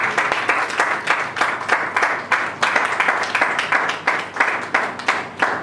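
A church congregation claps together in a steady, loud rhythm, the applause filling the space evenly with regular beats and no speech above it.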